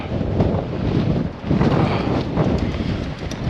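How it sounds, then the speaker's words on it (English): Strong, cold gusty wind at the Land's End coast roars and buffets the microphone continuously, swelling and easing in waves with no speech. "Land's End, madly windy, kind of cold, but windy, man."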